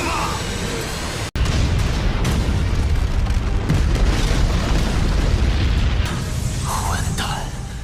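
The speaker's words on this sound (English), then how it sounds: "When the massive explosion engulfed the enemy" Massive animated explosion detonating, one sharp boom followed by a long, loud rumbling roar that fills the scene, with a voice narrating over it.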